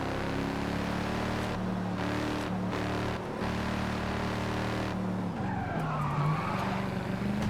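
Tires skid and squeal as a car drifts in Forza Horizon 5, a continuous screech layered over a steady, loud engine drone with shifting pitch, no talking.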